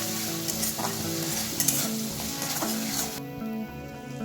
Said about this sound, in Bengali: এবার সব মশলাগুলোকে একসাথে আমি কষিয়ে নিচ্ছি।